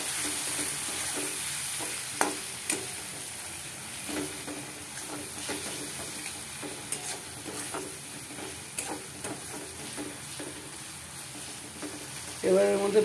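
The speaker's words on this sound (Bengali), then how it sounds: "এবার এগুলো এর সাথে ভালো মতো একবারে মিক্স করে ভেজে নেব" Spices with sugar, cumin powder and coriander powder fry and are stirred in a pan for a lentil and pumpkin dish, a soft continuous sizzle punctuated by occasional spoon clicks and scrapes, with a louder burst at the end.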